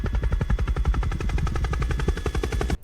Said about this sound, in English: Oh crap, it is a helicopter outside.